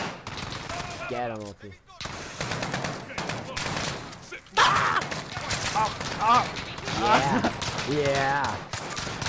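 Bots fire guns in Call of Duty Spec Ops, with bursts of gunshots running throughout under excited voices of players talking and shouting over the action.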